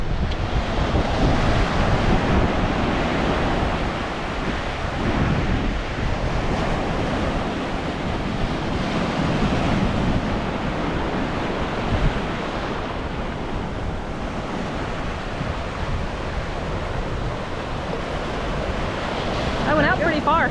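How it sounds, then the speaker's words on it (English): Ocean surf breaks continuously along a beach at New Smyrna Beach, a loud, broad roar of waves mixed with heavy wind buffeting the microphone, steady throughout with no talk rising above it. "you see where those waves are breaking?"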